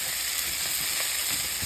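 Chickpeas frying in hot oil in a pot for Guyanese bunjal channa give a steady, dense sizzle with a constant high hiss, close and loud from start to finish.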